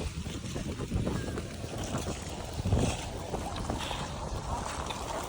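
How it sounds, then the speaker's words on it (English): Strong, cold wind buffets the microphone continuously while someone skates on the frozen Rideau Canal in Ottawa, producing a loud, rumbling roar with gusts that swell and fade. "The wind on my face is brutal."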